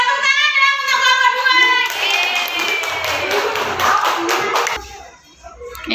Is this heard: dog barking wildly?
no